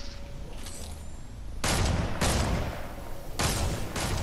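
Gunfire from the video game Fortnite: four loud, sharp shots in two spaced pairs, each leaving a brief rumbling tail over steady background game noise.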